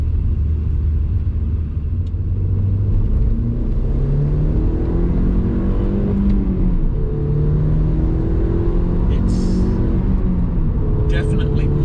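A 2003 Audi TT 225 Quattro with a flashed ECU accelerating, heard from inside as a loud, continuous engine rumble whose pitch climbs through several rising sweeps.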